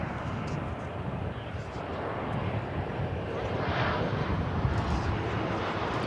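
An American Airlines jet arriving from Mexico City at Dallas-Fort Worth airport produces a sustained loud engine rumble that swells slightly midway, with people talking over it.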